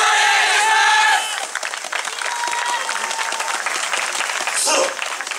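A crowd at a festival main stage at the Oedo Soran Festival applauding and cheering, with a loud burst of voices at first settling into steady clapping and a swell of cheers near the end.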